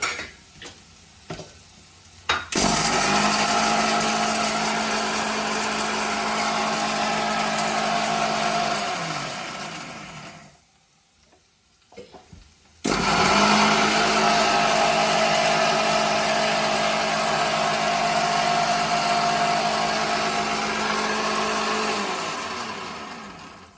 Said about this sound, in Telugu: ధనియాలు, శనగపప్పు, మినపప్పు మిక్సీ పట్టేసుకుందామండి.